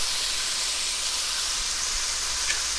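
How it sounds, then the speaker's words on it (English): Crushed garlic cloves and vegetables sauté in a pot as a steady, even hiss of frying. It holds constant and close throughout, with no talking over it. "We're going to let that saute until the vegetables get nice and tender."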